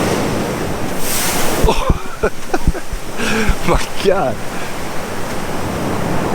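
Ocean waves breaking at Waimea Beach on Oahu's North Shore, a broad continuous roar of surf mixed with wind buffeting the microphone, with people exclaiming and talking over it in the middle.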